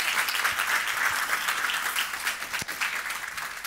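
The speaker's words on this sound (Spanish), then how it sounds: "Can somebody aplauso?" Church congregation clapping in steady, dense applause during a Spanish-language sermon, a continuous crowd patter that holds for several seconds with no speech over it.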